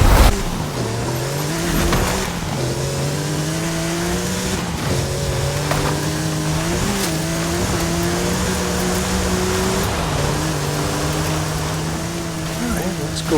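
Porsche 959 Rally Raid engine in a racing video game, droning loudly and continuously with repeated rising revs and gear shifts, occasional tire squeal, and a voice talking over it.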